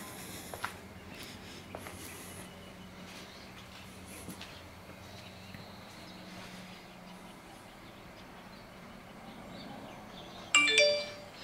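A low, steady background hum runs for several seconds, then a short, bright chime from an Amcrest WiFi video doorbell rings out loudly near the end.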